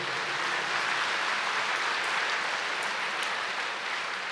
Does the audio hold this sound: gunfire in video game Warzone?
no